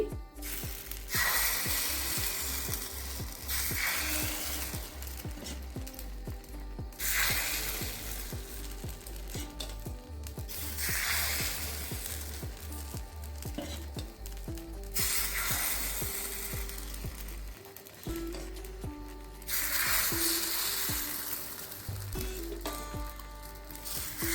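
Chitoi pitha rice batter sizzling on a lightly oiled hot pan, bursts of loud close frying that rise each time batter is poured and then settle, repeating about every five seconds with occasional clinks and no talking.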